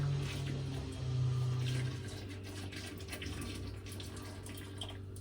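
Water runs steadily into a container for a homebrew Trappist triple beer's sugar solution, a continuous hissing flow with a low hum underneath that eases after about two seconds and continues more quietly.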